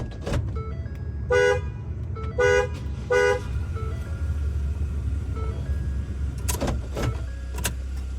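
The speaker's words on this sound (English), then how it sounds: "the remote start started his vehicle" A 2014 Ford F-150 pickup starts by remote start, with three short horn toots, engine idle rumbling underneath, and later clicks and brief bursts, all heard from inside the cab.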